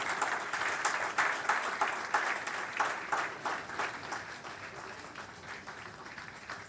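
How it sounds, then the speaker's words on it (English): Applause from a conference audience at a closing session, a moderate, fairly distant patter of many hands clapping that swells slightly and then thins out gradually toward the end. "we need to give a big applause to Dr. Abdul Jabbar Sanghi"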